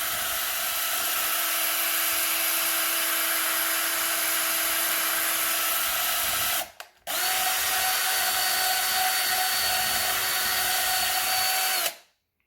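A power drill mixing epoxy resin whirs steadily at high speed, stops briefly, then spins up again and runs until cutting off near the end.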